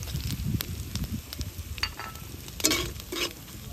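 Garlic, ginger, turmeric, chili powder and salt fry together in a pan, giving a close crackling sizzle broken by stirring scrapes and a louder spatter near the end.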